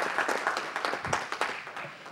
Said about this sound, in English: Everyone give her a round of applause for coming out to support her daughter.